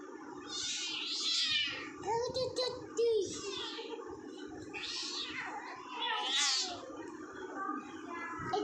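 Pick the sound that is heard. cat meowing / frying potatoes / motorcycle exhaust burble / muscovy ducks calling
cat meowing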